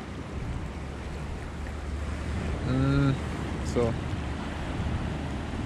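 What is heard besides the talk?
river mouth water rushing out in bad weather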